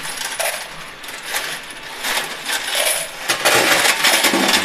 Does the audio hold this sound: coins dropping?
yes